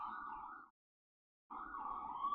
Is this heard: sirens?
yes